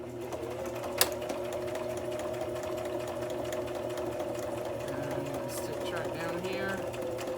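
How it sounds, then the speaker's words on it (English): A sewing machine running a zigzag stitch while stitching book signatures together: a steady, even mechanical whir and hum with a fast rhythmic chatter, close and continuous, with one sharp click near the start. "I'm just going to use the zigzag stitch."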